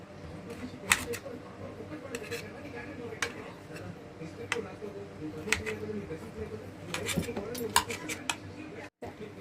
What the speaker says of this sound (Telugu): ఈ విధంగా మొత్తం కట్ చేసి చూసుకొని చాకి మొత్తం చిన్న చిన్న ముక్కలుగా కట్ చేసుకోండి